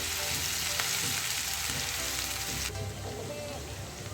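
Steady, dense sizzling of a large finely chopped onion softening in hot oil, crackling continuously with a few small pops, close by.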